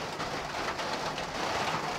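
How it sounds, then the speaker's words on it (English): Rain falling outdoors during a workshop guitar build, a steady, dense hiss of drops hitting surfaces, constant and fairly close with no voices. "Sorry about the rain, you guys."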